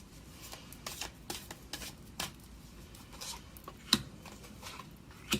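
Angel Answer tarot cards shuffled by hand, a soft run of papery riffles and rubs with sharper flicks, close and quiet with no talk.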